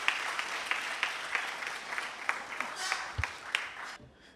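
Applause from an audience at an official African culture day ceremony, quiet and somewhat distant, with some sharper individual claps standing out, before the sound cuts off near the end.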